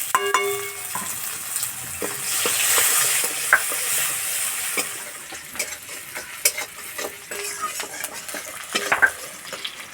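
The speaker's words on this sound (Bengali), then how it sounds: "তেলে দেবো পেঁয়াজ কুচি" Chopped onion frying in mustard oil in a wok, with a steady sizzle and crackle plus intermittent scrapes and clinks of stirring throughout, fairly close, no talk.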